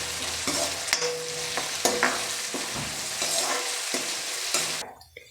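Head mutton frying with curry leaves and green chilies, a steady broad sizzle of hot oil broken by repeated scrapes and knocks of stirring, continuous and close, ending abruptly.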